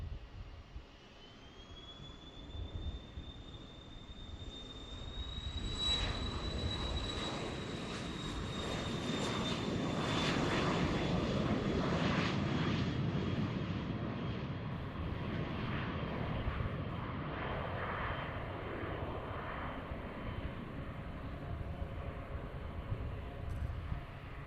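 A passenger plane departing Boeing Field in Seattle: a jet engine whine rises, then a broad roar swells and lingers for many seconds before slowly fading, heard from a distance with no talk.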